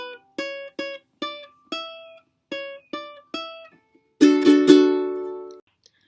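A ukulele plays the final bar of a riff: eight crisp plucked notes in an even rhythm, followed by a few fuller, ringing strummed chords that decay alone.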